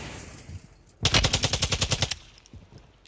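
A rapid burst of automatic gunfire in a battle royale video game, about a dozen evenly spaced, loud shots fired over roughly a second, with quieter game ambience before and after.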